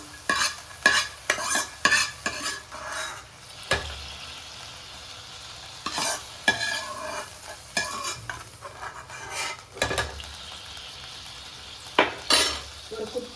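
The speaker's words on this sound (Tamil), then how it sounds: "புதினா நல்லா வதக்கி தனியாக எடுத்து வச்சுக்கலாங்க" Mint leaves sautéed in a pan with a light sizzle under frequent clattering, scraping strokes of a utensil against the pan, rapid at first, then spaced out, close and fairly loud.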